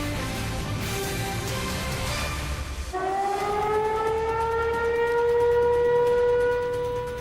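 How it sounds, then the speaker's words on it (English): Tornado sirens wail across Middle Tennessee on a stormy night. A siren tone fades out and then a new siren starts near the middle, its pitch swelling up and holding a loud, sustained howl. "Tornado sirens sounding off all over Middle Tennessee tonight."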